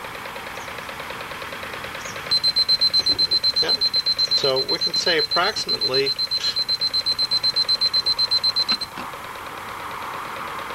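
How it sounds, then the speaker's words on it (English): Small electronic alarm on a solar harness RPM counter beeps in a rapid, steady pulse for about six seconds, fairly loud and close, with a person talking briefly over it. "you're going to hear the little alarm go off."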